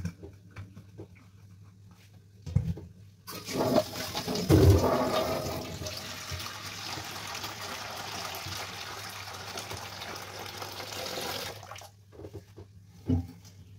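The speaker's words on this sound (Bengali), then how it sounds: "জলটা চট করে আগে চলো ভরে নিই" Tap water gushes into a pot in a steady, close stream lasting several seconds, beginning with a splashy burst and ending abruptly, with faint clicks before and after.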